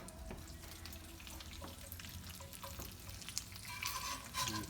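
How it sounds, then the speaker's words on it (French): Salmon skin crisping in a hot pan over the flame, a steady low sizzle with scattered crackles and small clinks that brighten into sharper spattering toward the end; no one speaks. "on va faire comme des chips. Fait qu'on le cuit sur le feu rapidement."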